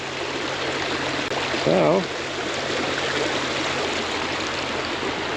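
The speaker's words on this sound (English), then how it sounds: "there's a fair amount of water running through here right now" Stream water runs steadily after rain, a continuous, full rushing and gurgling close by, with a brief voice over it.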